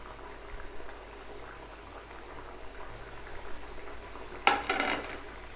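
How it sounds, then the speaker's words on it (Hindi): Chicken and potato shorba simmering on high flame in an open pot with ginger and green chilies, a soft steady bubbling with a brief clatter near the end. "इसे अब 3 से 4 मिनट ऐसे ही पकने देंगे हाई फ्लेम पे"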